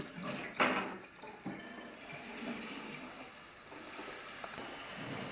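Water runs from a tap with a steady hiss, starting with a few splashy bursts, close by and moderately quiet.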